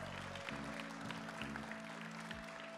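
Dense, steady clapping from a crowd at an awards ceremony during a gaming festival fills the whole stretch, with low droning tones underneath; no one speaks over it.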